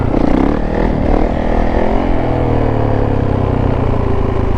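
Yamaha YZ450F dirt bike engine revving hard while the rider pulls a wheelie, a loud, close four-stroke roar that rises and then holds at a steady high pitch.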